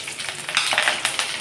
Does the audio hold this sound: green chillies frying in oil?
yes